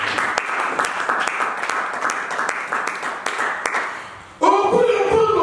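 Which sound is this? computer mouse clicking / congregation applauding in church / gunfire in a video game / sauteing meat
congregation applauding in church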